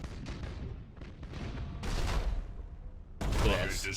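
Starship weapons firing in Battlefleet Gothic: Armada, bursts of rumbling cannon fire and crackling impacts that swell in stages, growing louder and brighter toward a heavy final salvo.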